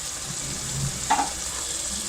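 Chopped coriander goes into a sizzling egg and peas curry, a steady close frying hiss with one brief soft stir or drop in the middle.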